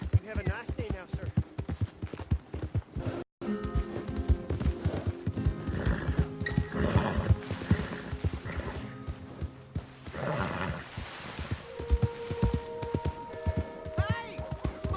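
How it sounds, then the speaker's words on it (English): A horse in the Red Dead Redemption 2 video game whinnies loudly while rapid hooves clop in a rhythmic series, with short bursts of other game sounds mixed in. "Hey! My horse! Am I glad to see you?"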